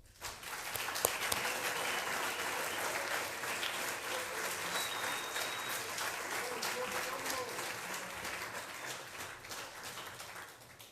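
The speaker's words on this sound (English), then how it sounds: "So I think our coaches deserve a round of applause" Audience at a school winter sports assembly applauding the coaches, a dense, steady round of clapping from a large crowd, sustained for about ten seconds and fading slightly at the end.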